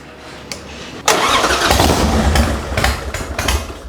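A Harley-Davidson Softail motorcycle engine cranks and catches after a quiet moment, then settles into a loud, close, uneven rumble with rising and falling revs, recorded at a small modification workshop beside a fishpond.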